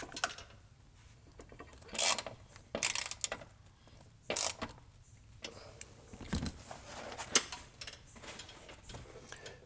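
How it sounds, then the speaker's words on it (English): A ratchet clicks in short, irregular bursts while driving four screws back into the seat of a John Deere Gator XUV utility vehicle, with scraping and rubbing between the bursts and no talk. "we'll put those 4 screws right back in place"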